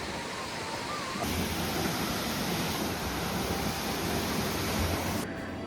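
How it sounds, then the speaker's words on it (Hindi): A waterfall along the Madhyamaheshwar mountain trek gives a loud, constant rush of falling water that swells slightly after the first second and stays dense and unbroken. "ये वहाँ पे यहाँ पे बहुत प्यारा सा वाटरफॉल है, मैं तुम्हें दिखाता हूँ, बीच रास्ते में ही है"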